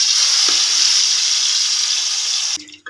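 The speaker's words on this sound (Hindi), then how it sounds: "अब मैं इसमें मटन डाल रही हूँ।" Marinated mutton hits hot ghee and oil with whole spices for dum biryani, a loud, steady broadband sizzle lasting over two seconds with a brief clink near the start, then cutting off abruptly with a faint clatter; no talking.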